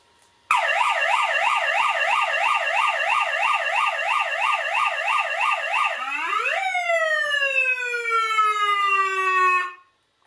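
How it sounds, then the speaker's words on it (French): A small electronic siren on a Traxxas X-Maxx RC car wails in rapid up-and-down sweeps, then switches to a slower rising tone before cutting off; loud and close, no talking. "maintenant je vais faire un petit essai de sirène"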